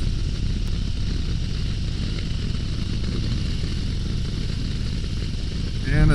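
A 2022 Harley-Davidson Low Rider ST cruising in fourth gear at about 54, its engine a steady low rumble under continuous wind roar, close and even throughout.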